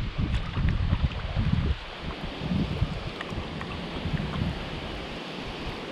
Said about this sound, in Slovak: Ten horúci vietor